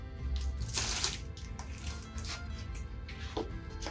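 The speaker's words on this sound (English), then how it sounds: "I'm going to go ahead and just cut the earrings out first." Polymer clay earrings being cut out with a cookie cutter: steady soft pressing and crunchy scraping textures, repeated close-up handling with rustling bursts throughout, no talking.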